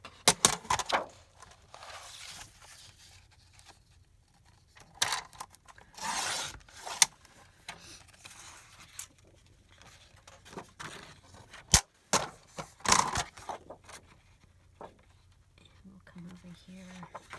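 Scissors cut through cracker box cardboard for a junk journal cover, giving several crisp, separate snips and crunches spread across a quiet room, with a voice talking at times between them.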